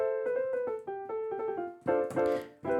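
Boz New York L Lite piano plugin with a narrow velocity range, a short melodic phrase of single notes and chords played evenly at a consistent loudness, close and clear with no talking.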